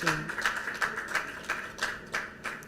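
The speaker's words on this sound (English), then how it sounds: "Let's give a wonderful round of applause" Applause at an international civil service conference: a small group clapping in a regular, sparse rhythm of distinct claps, moderately near and fairly quiet.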